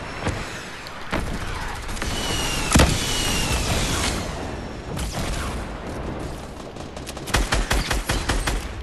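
Quad launcher rockets fire in Fortnite, sharp explosive bursts and rapid booming blasts in quick succession, loud and close, with a dense cluster of shots near the end.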